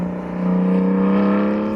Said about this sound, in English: My car has much more of an exhaust sound.